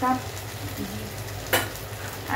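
Water being stirred into chicken keema pulao in a pot, a steady low sizzle with scraping spoon strokes, including two sharper scrapes near the end.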